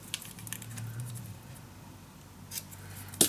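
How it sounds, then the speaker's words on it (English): Scissors snipping small paper pieces for book hinges, heard as a few close, crisp cuts over a quiet, low background, ending with a sharper snip. "now I am gonna cut those 2 little pieces"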